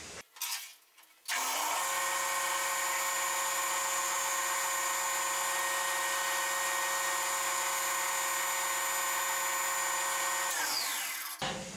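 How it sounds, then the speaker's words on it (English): A wood lathe turning a spinning top spins up and runs at about 1200 RPM with a steady high whine and constant hum for several seconds, then winds down and stops. "I've had the lathe running at about 1200 RPMs"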